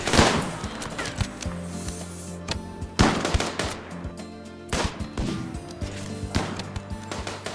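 Repeated bursts of rifle and automatic gunfire from colonists in the video game RimWorld, rattling volleys returning every second or so with loud impacts, no talking.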